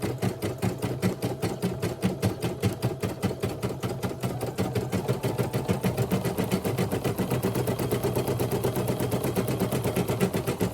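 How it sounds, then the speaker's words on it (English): A machine stitches a design onto a shirt that carries heat transfer vinyl, its needle hammering in a fast, steady, rattling rhythm that continues without pause; loud and close, with no talking. "as you can see, it's stitching really well"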